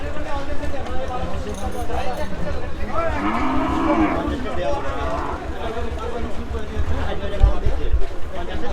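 Cattle mooing repeatedly at a crowded Qurbani cattle market in Hozrotpur, a spotted bull among them, with long lowing calls rising over constant crowd babble, shuffling hooves and nearby talk.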